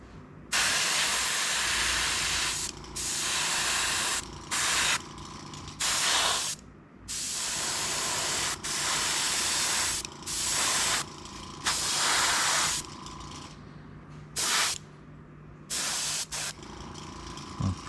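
An airbrush sprays paint onto an O scale train model of a 1969 Dodge Charger, hissing in repeated close bursts of one to two seconds with short pauses between passes.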